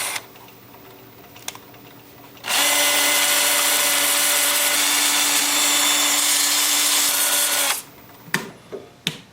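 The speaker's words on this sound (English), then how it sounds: "I will switch to my 2-inch sanding discs, and I'll do that in reverse" A power drill spins a 2-inch sanding disc in reverse against a turned wooden live edge trivet, a loud, steady whine lasting about five seconds between quieter clicks and taps.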